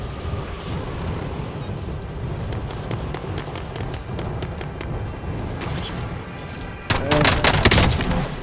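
Rapid gunfire bursts crackle through a Call of Duty: Warzone match over constant wind and movement noise, with a louder, denser volley near the end; players talk over the action.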